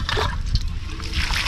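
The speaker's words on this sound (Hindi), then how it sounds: "और इधर देखिए धनिया प्याज और हरा मिर्चा इसको धो लेते हैं।" Fresh coriander, onion and green chillies are rinsed in water in a home kitchen, giving close, continuous splashing and sloshing.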